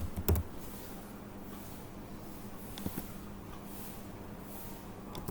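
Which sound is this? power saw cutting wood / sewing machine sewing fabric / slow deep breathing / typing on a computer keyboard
typing on a computer keyboard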